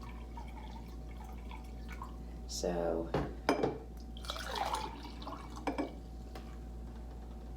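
Water is poured into a glass for a simple ice and salt science experiment at home: a short bubbling glug with light clinks of glass, followed by a few brief splashes and taps. A voice speaks a single word.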